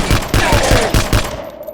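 Rapid volley of shotgun blasts in the video game Vivisector: Beast Within, about six loud punchy shots in quick rhythm over roughly a second and a half, then a fading tail with no voices.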